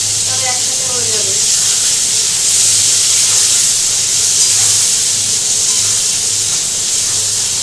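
Tomatoes drop into a pan of frying potatoes, setting off a loud, continuous sizzle and hiss, with a brief voice near the start.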